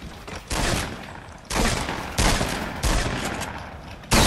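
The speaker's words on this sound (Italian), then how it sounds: "mi stanno sparando a tutte le parti" Loud bursts of Fortnite gunfire hit close, arriving as several separate volleys of rapid shots with brief pauses between them.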